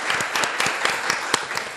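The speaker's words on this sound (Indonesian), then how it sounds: "Kita kasih tepuk tangan lagi dong." Talkshow audience applauding a guest, a dense burst of many hands clapping close and fairly loud, sustained throughout.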